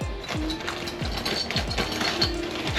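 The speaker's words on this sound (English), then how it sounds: "just gonna tighten axle nut, make sure those are tight" A ratchet works an axle nut on a BMW during front brake and suspension work, clicking in a steady rhythm of about eight quick pulls, each a sharp metallic ratcheting burst, up close and with no talk.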